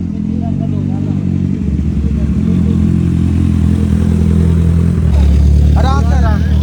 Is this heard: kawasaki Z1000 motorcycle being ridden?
yes